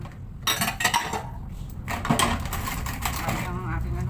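Dishes, pots and cutlery being washed by hand at home, with clinks and clatter of metal and crockery under running activity, close and fairly loud.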